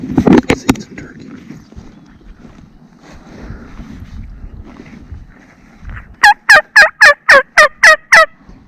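Wild turkeys gobble on the opening day of turkey season, a rapid series of about eight loud, rattling calls in a burst near the end, after a stretch of rustling movement and faint sounds.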